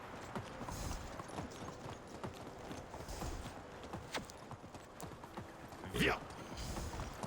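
Horse hooves in the video game Medieval Dynasty, a fast, steady clip-clop rhythm of galloping under faint game ambience, with a brief whoosh partway through and a voice speaking over it.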